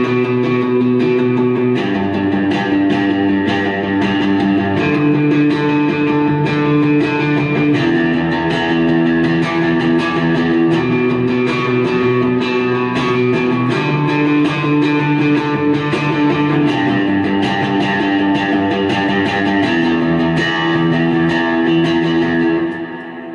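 An electric guitar plays a sustained single-note line with added gain and distortion, a touch of subtle reverb and no delay, loud and continuous for the whole stretch, fading at the very end.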